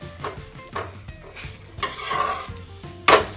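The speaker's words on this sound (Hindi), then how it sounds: "और इसको बहुत मीडियम फ्लेम पे करके धीरे धीरे सेक रहे हैं।" A suji besan cheela roasts slowly on a pan over a medium flame, with a soft steady sizzle broken by repeated spatula scrapes and clinks against the pan. The sounds are close by and no one speaks.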